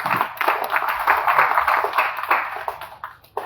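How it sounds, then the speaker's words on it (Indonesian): An audience at a talk by Anis Matta of the Gelora party claps in a fairly close, continuous burst that thins out and fades near the end. "Mohon tepuk tangan Pak Anies"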